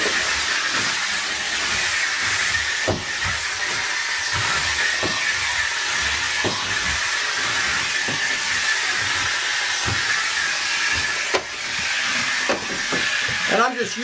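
A steam cleaner hisses continuously from close by as its steam is used up, a broad loud rush with small clicks and bumps throughout, and a voice briefly heard near the end.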